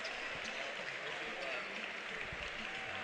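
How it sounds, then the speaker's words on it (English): A basketball arena crowd at a college men's game applauds a player, a soft, distant, continuous patter of clapping that fills the whole moment. "But Darner now getting applause here from the pavilion."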